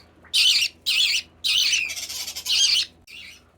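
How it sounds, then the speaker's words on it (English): Baby Quaker parrots, blue opaline and turquoise opaline, give a series of five or six loud, harsh squawks close by, each about half a second long with short gaps, over a low background hum. "Look, here are the Quaker Parrots."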